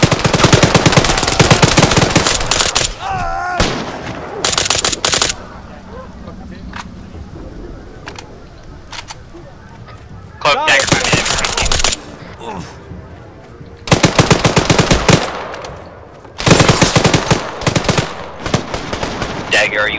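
Bursts of automatic gunfire in the military video game ArmA 3, loud and close, coming in several separate volleys with quieter gaps between them, while voices talk over the action.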